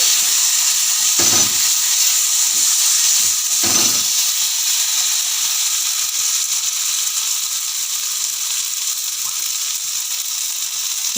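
Broccoli curry with a spoonful of cashew paste sautéing in a hot pan, giving a steady, close sizzling hiss throughout with a couple of brief low clatters near the start.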